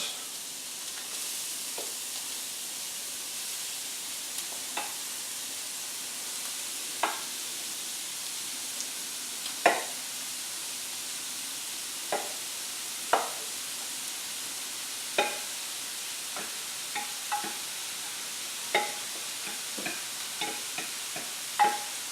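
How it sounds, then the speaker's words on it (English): Cauliflower rice hitting a hot pan sizzles in a steady, bright hiss, with scattered sharp clicks and taps from the pan or utensil over about twenty seconds; no one speaks. "now that the pan is heated up, I'm going to go ahead and put in all of this cauliflower rice"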